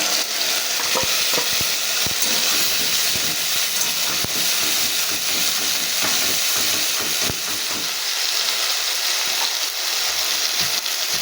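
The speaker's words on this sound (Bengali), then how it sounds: "এবার এটাকে আমি খুব ভালো করে কষাবো।" Fried potatoes with ground spice paste, salt and turmeric sizzle loudly in a pan, a constant dense hiss punctuated by repeated scraping stirs, close and steady with no talk.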